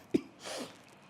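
A single short sneeze, a sharp burst followed by a breathy exhalation, fairly quiet against a hushed background.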